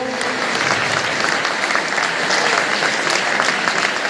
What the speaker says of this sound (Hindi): बच्चे, आप लोग तालियों में कंजूसी न करें।